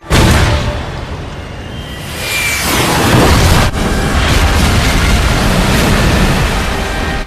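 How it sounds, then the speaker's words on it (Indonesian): A homemade bomb blows up in a loud, sustained roar that rumbles on for several seconds, followed by a second heavy blast and continuing rolling noise, with no voices. "Spin melemparkan bom rakitan dan langsung diledakkan dengan senjata SS-1V2"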